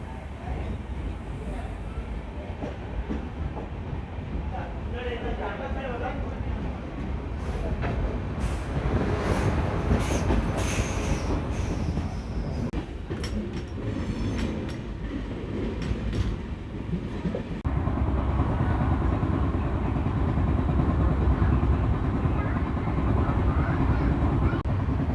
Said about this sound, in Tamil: திருப்பூர்லேருந்து வண்டி எடுத்து பார்த்தீங்கன்னா ஒரு செம்ம ரனில் வந்து போய்கிட்டு இருக்குங்க